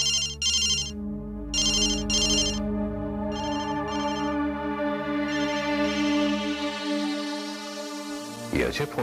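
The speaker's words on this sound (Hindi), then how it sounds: "ये अजय फोन क्यों नहीं उठा रहा?" A telephone rings over and over without being answered in a police station, its bursts of bright ringing repeating over a steady, sustained musical tone.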